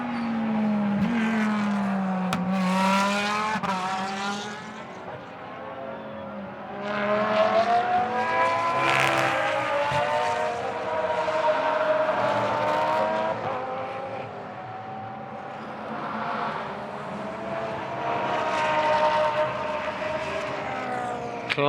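Lamborghini GT race car lapping a circuit during free practice in Moscow, its engine note rising and falling through gear changes as it passes, fading and returning at a moderate distance, no voices over it.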